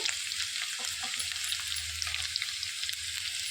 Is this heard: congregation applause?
no